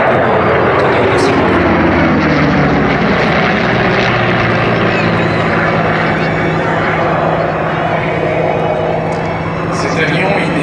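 A twin-engined aircraft powered by two Allison engines drones steadily through a display pass at the Air Legend 2024 air show. The loud, continuous engine roar lasts throughout, with a commentator talking over it.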